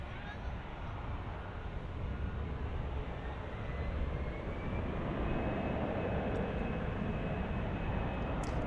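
A Turkish Airlines airliner passes at DFW International Airport, its steady broadband jet roar holding for several seconds and swelling slightly toward the end, with voices faintly audible underneath.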